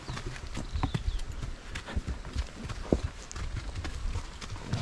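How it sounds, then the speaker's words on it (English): Horse hooves clip-clop steadily at close range as a rider climbs an uphill mountain trail in Kurland Park, Plettenberg Bay, South Africa, with irregular footfalls over rustling, scuffing ground. "just to show you guys what it's like riding horse into the mountain over here"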